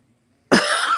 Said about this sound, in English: That cough don't sound good.